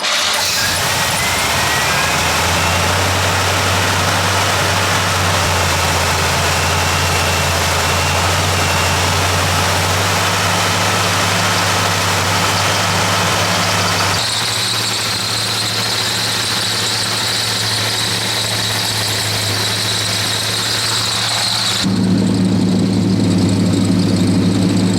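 A truck engine that won't idle properly is held running with weight on the accelerator, a loud steady drone with a persistent high squeal, shifting in pitch partway through and again near the end.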